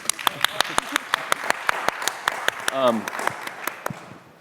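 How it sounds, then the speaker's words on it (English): An audience applauds at a sustainability event, with sharp claps landing in a loose, uneven rhythm and a brief voice rising partway through, moderately close. "I just want to applaud for everyone all the time"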